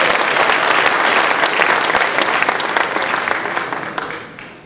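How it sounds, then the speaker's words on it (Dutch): An audience at a juggling act bursts into loud, close applause, the dense clapping holding strong before tapering off toward the end. "nu iedereen die deze truc uitgevoerd wil zien met deze vlijmscherpe jongleerkegels, kan nu klappen!"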